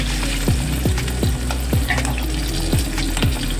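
A fish head fries in hot oil in a pan for a spinach ghonto dish, with a continuous loud sizzle and regular scraping strokes of a spatula about twice a second.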